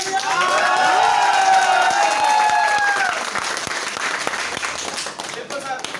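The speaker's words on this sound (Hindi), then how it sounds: "एक जोरदार तालियां" A loud crowd applauds at a Vestige store opening in Motiganj, India, clapping dense and steady, while a voice speaks over it through a PA and the clapping fades toward the end.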